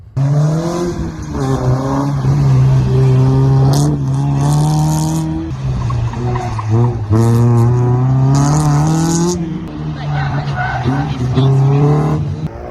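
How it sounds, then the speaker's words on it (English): Small Honda race car on an autocross run, its engine loud and close with a rising and falling whine through gear changes, bursts of bright tire squeal at intervals across the run. "go check out that sweet little Honda race car that my buddy Wade is going to let me drive today"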